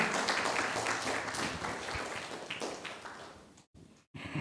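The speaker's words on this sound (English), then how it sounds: "give applause for everyone in here" An online audience claps at the close of a seminar on green financing for sustainable development, a brief burst of scattered clapping that fades and then cuts out in abrupt gaps.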